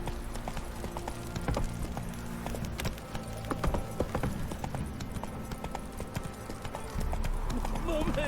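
A horse gallops in The Witcher 3: Wild Hunt, its fast hoofbeats running continuously under game music, with voices talking over it.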